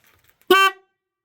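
A single short blast from the horn of a 1994 Dodge Ram truck, loud and close, lasting about a quarter second after near silence.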